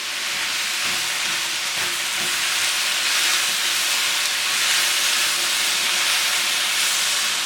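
Vegetables and green onions stir-frying for japchae in a hot pan give off a steady, loud, bright sizzle and hiss that continues without a break from start to finish, with faint clatter underneath.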